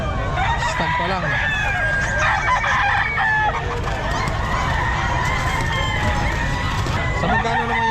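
A young rooster (stag) crows among other fowl at the Bocaue pet market, its calls rising over a dense, noisy backdrop of clucking, honking birds and people talking nearby.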